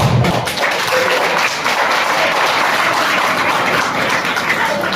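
An audience claps at the annual day function of a government pre-university college in Tayaluru. The applause is loud, dense and sustained, a continuous wash of many hands with no voices.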